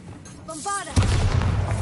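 A Bombarda explosion spell from Hogwarts Legacy goes off with a sudden loud boom after a short musical shimmer, followed by a sustained rumbling roar that carries through to the end.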